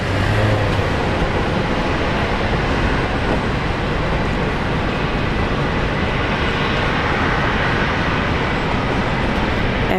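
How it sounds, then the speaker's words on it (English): Qantas flight QF 119 taking off from runway 19 left at Brisbane International Airport, a loud, steady jet-engine roar rumbling continuously throughout at close range. "QF 119 is now rolling off 19 left. Okay, let's watch this takeoff."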